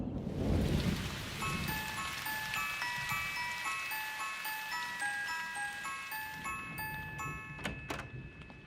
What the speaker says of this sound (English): It's really raining hard out there.